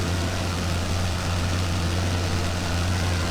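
In the Wings Over Flanders Fields flight game, a WWI airplane engine drones steadily at a low pitch, an even, continuous hum with no talking over it.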